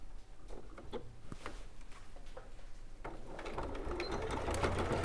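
A sewing machine stitches fabric near the top of a window panel, a close, steady rapid clatter that grows slightly louder toward the end, with no talk over it.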